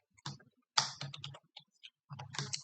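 Fingers typing on a computer keyboard, a quick close run of clicky keystrokes in two bursts separated by a short pause, fairly quiet with no talk.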